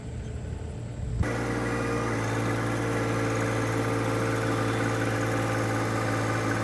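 A John Deere tractor moving bales, its diesel engine starting to run after a quiet second and then holding a steady, close, droning idle-like rumble with a low hum and no talk.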